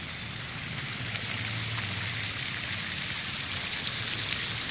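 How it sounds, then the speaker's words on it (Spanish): Polluted water carrying waste flows steadily toward the Cañabralejo river in Siloé, a continuous broadband rushing wash like a stream, close and even throughout with no talk. "Aquí ustedes ven pasando el agua"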